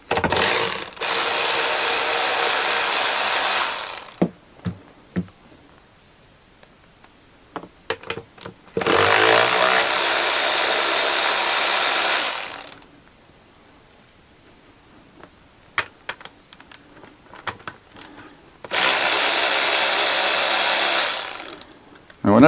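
Half-inch AF nuts come off a gearbox's remote gear change extension housing under a ratchet wrench: three bursts of rapid, loud clicking several seconds each, separated by quieter clinks and handling knocks.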